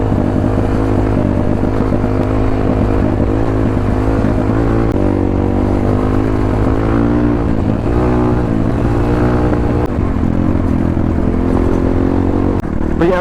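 Dirt bike engine running steadily on a trail along the west side of Lake Mountain, a continuous loud motor drone with shifting pitch and revs throughout.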